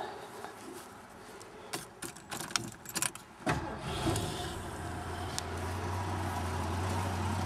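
Keys jingle and rattle, then a Ford Gran Torino engine with a stock single muffler cranks and catches, settling into a low, steady idle that hums on quietly.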